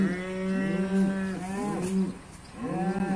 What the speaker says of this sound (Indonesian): sapi bunting ini akan masuk dan kemudian akan makan konsentrat di kawasan restorasi ini